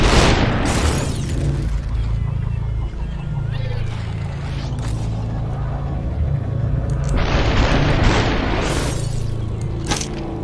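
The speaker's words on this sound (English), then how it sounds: "Grab the rifle. Fire and fire." Rifle gunfire and impacts ring out in the Superhot video game, loud booming bursts with sharp cracks and crashes over a continuous rumbling background.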